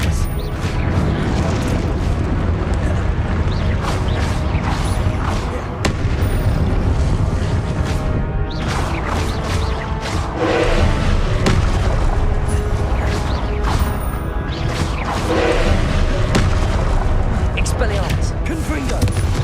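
Confringo blasting-spell explosions in Hogwarts Legacy combat: repeated booms and bursts over a dense, continuous wash of game noise, with a voice talking throughout.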